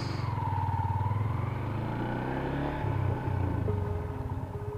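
A motorcycle engine idles and revs unevenly nearby while being worked on, a steady rumbling clatter with a slight rise in pitch near the middle.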